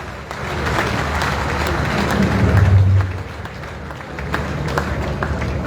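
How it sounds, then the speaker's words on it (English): Conference audience at a Nigeria Bar Association gathering giving a louder round of clapping, a thick continuous applause that peaks and then eases slightly toward the end. "I believe we can give a louder round of applause."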